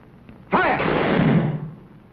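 A firing squad fires a single loud volley of rifles, a sudden booming crack that rolls on and fades over about a second.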